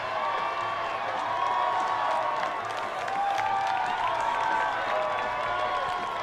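Saints fans at a high school football game cheer and clap from the far sideline, a steady roar of crowd noise that holds for several seconds with scattered shouts rising over it.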